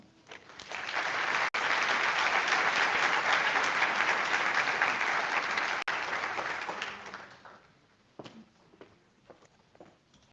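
Audience applause at a University of Maryland School of Dentistry white coat ceremony swells quickly into sustained clapping in a large hall for about six seconds, then fades to scattered claps and footsteps.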